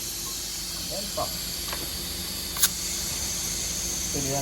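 An air pump hisses steadily while inflating a motorcycle tyre in a garage, a continuous faint airy hiss with a couple of brief clicks and soft background voices.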